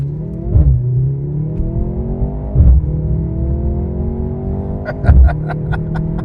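A 2026 Mercedes-Benz C43 AMG accelerates hard through three quick gear changes, each upshift marked by a sharp burst before the engine note climbs again, loud and close.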